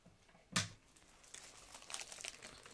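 Scissors cut open a plastic medication packet for an apomorphine pump, heard as a sharp close snip followed by soft plastic crinkling and rustling, quiet overall with no talk.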